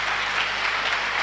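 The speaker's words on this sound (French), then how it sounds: "Acclamons pour vous." A church congregation claps together in a dense, continuous burst of applause, loud and even throughout the room with no pause.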